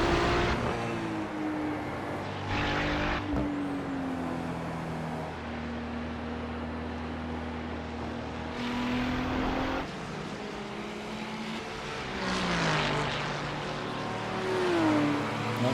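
A Porsche GT3 race car in a racing video game drones steadily at moderate volume, its engine note rising and falling through upshifts and braking for tight corners, with no talking.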